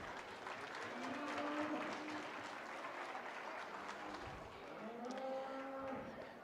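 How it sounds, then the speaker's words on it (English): An audience at a 4-H district show and sale in St. Paul, Alberta applauds the junior grooming finalists, a long spread-out round of clapping while cattle moo loudly nearby several times. "just give them a round of applause"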